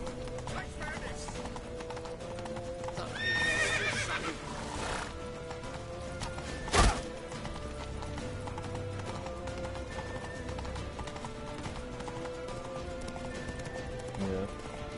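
A horse in a PS4 video game clip-clops steadily and lets out a neigh, with one sharp impact midway, all under a continuous game soundtrack and ambience.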